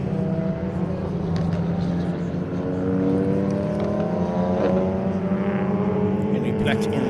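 BMW Z3 race car circling a track at a regional motorsport festival, its engine drone rising and holding steady at a distance while a commentator talks over it.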